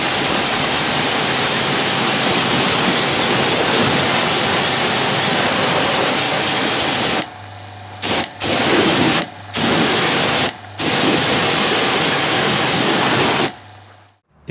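A water jet rinses a dirty Mitsubishi engine bay, a loud, steady hiss of spray that stops and restarts in several short breaks before cutting off at the end.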